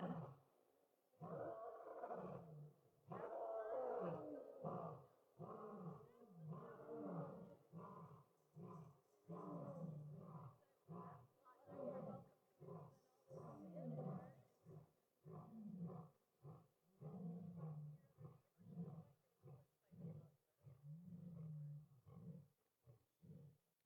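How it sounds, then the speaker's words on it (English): Lion rescued from Argentina roaring a welcome at a wildcat sanctuary: a long sequence of rhythmic, deep grunting roars, swelling loud and then tapering into shorter regular pulses, fairly close with no talk. "She listened to that beautiful lion carol, as we call them here"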